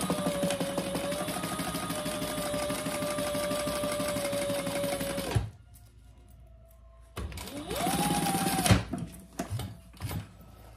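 A domestic sewing machine runs a long basting stitch on a clutch bag, a loud steady mechanical whir for about five seconds, then it stops, followed by a shorter burst of stitching and some handling clatter.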